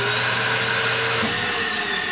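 A Dirt Devil CV1500 central vacuum built into an RV island runs with a steady, loud motor whine and airy rush, its tone shifting briefly partway through, with no talking.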